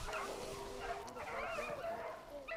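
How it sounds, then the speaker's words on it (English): Hunting dogs yip and bay in a steady, overlapping chorus while chasing a rabbit through woods, with a voice talking over the pack. "There goes the rabbit. Hear the dogs."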